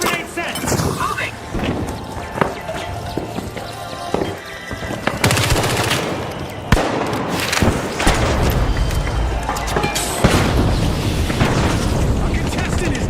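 Repeated grenade blasts and booming explosions from the video game The Finals, loud and close, mixed with rapid gunfire and dense game noise throughout, with some voice chatter underneath.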